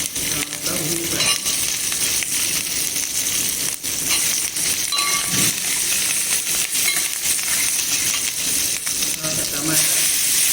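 Onion sizzling and frying in hot oil in an Andhra-style tempering with fenugreek, mustard seeds and green chillies for buttermilk curry, a steady close crackle with occasional stirring clinks throughout.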